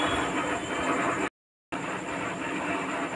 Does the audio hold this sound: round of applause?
no